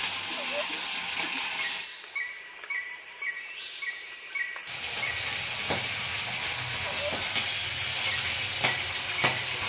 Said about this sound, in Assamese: প্ৰথমতে মাছখিনি এটুকুৰা এটুকুৰাকে এনেকৈ ভাজি লৈছো গৰম তেলত